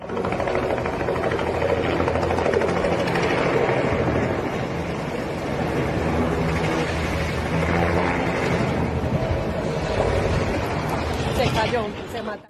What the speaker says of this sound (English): a tourist helicopter carrying 6 people lifted off a rooftop, only to spin violently out of control seconds later